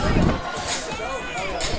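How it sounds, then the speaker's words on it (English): A crowd at a high school state championship football game cheering and murmuring in a broad, steady roar, with an announcer's voice talking over it. "crowd getting into it"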